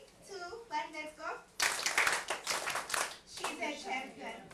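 An audience at a communications and digital technologies event breaks into brisk, dense clapping that lasts a couple of seconds, with a speaker's voice heard before and after it.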